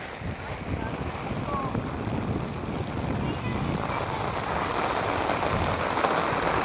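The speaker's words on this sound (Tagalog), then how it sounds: "Hindi matapos-tapos tong ulan." Heavy rain pours down without letup, a dense, steady hiss of water covering everything from start to finish, the surroundings flooded until they look like the sea.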